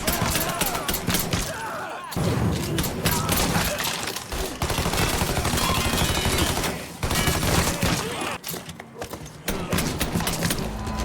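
Gunfire in the video game Mafia 3: dense bursts of rapid shots and fusillades rattle almost continuously, broken by brief pauses, loud and close.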